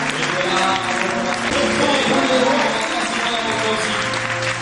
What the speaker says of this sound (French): Acclamons très très fort pour le roi.